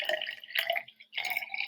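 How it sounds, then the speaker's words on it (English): Water pouring into a 100 millilitre glass beaker, a bright trickling splash heard up close in two short bursts with a brief gap between them, no voices present. "So I'm going to fill this up to 100 milliliters because that fills our beaker"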